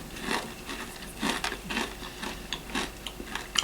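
Someone chews raw plantain in rapid, crisp crunches, a close, steady series of bites with no talking.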